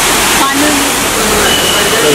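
A waterfall at Mount Abu, Rajasthan, rushing steadily and loudly with constant broadband roar from nearby, filling the whole moment without pause.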